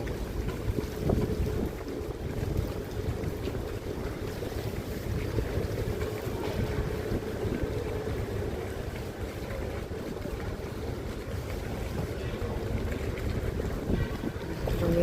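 A boat moves along a swift, fast-flowing river, giving a continuous rushing wash of water mixed with heavy wind buffeting against the microphone, rough and steady throughout.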